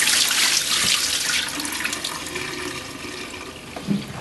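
Water pours out of the solution tank of a VIPER AS380/15B floor scrubber as the tank is tipped over, a steady near gush of liquid running alone that gradually eases off.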